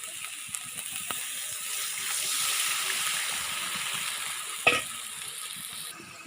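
Meat frying with spices in a pan, a steady soft sizzle with faint scraping and stirring, one sharper clatter near the end.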